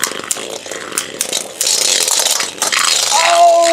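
Beyblade tops launched into a stadium and battling outdoors on a rainy day, a loud continuous grinding rattle of spinning plastic tops scraping and clashing, with brief sharp hits and a rising whine near the end.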